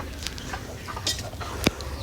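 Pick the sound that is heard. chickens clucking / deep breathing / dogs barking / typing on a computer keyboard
chickens clucking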